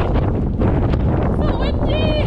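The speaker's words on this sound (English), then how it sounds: "So windy." Strong wind on a beach roars steadily into the microphone, a constant buffeting rush, with faint voices and a high whistling tone briefly audible beneath it.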